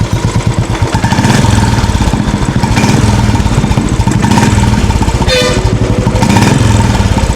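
A Royal Enfield Bullet fitted with an Indori silencer runs close by, its engine thumping out a loud, rhythmic, low exhaust beat that rises briefly with revs.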